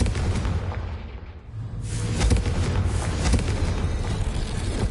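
A Confringo explosion spell in Hogwarts Legacy erupts with a loud fiery blast after a brief dip, followed by sustained crackling rumble and scattered pops that stay strong to the end.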